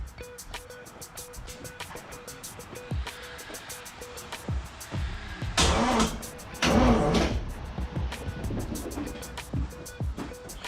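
A small block Chevy engine in a 1986 Camaro cranking over with a starter, rhythmic churning pulses building to louder bursts partway through, close by in a garage with faint background activity.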